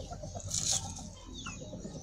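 A Bangkok rooster clucks softly at close range, a couple of brief calls over a quiet farmyard background.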